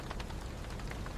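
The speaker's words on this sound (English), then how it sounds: "it is raining even harder now" Heavy rain falling hard, a faint but dense patter of drops with scattered sharper hits, steady throughout and with no voices.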